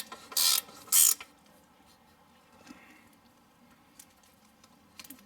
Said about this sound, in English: finish them up with the air ratchet